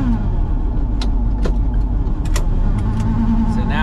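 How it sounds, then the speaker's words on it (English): A 1961 VW Beetle's air-cooled engine runs unevenly after a timing change, a loud, close, continuous rumble with faint clicks and rattles riding over it. "Okay, motor's stumbling."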